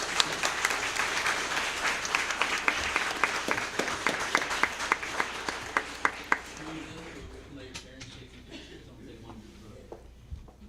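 A school board meeting audience applauds for students, a dense clatter of many hands that runs strong for several seconds, then thins to scattered individual claps as a voice starts speaking underneath.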